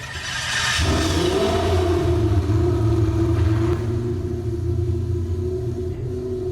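A 1993 McLaren F1 in the Driving Empire video game starts up and settles into a loud, steady engine drone with a deep rumble, holding near-constant pitch with a slight rise and fall.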